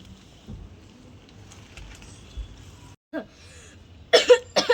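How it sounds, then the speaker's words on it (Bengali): A child coughs a few short, sharp times near the end, after a quiet stretch with faint background sounds. "এই পুচকি পুচকি তোর খুব কাশি হয়েছে"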